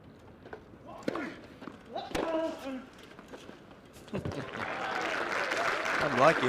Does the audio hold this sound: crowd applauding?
yes